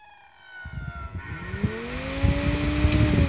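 An Ebmpapst DV 6224 24 VDC fan spins up toward 4300 RPM, its rising whine climbing in pitch over a steady airy rush that grows louder and settles into a smooth close hum.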